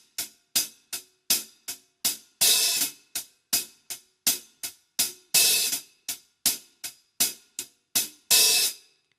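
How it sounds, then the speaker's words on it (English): A hi-hat struck in a steady pattern, mostly tight ticks with a few louder, longer sizzling washes where the cymbals loosen slightly, no talking. "the hi-hat is opening, but my foot is barely moving to let the 2 plates sizzle together."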